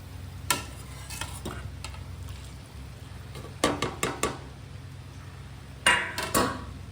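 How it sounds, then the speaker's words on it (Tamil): A spoon stirs beaten egg through vermicelli in a pan, giving a few sharp scraping clinks over a low background sizzle, loudest in brief clusters near the end. "முட்டை போட்டு நல்லா கலக்கணும்"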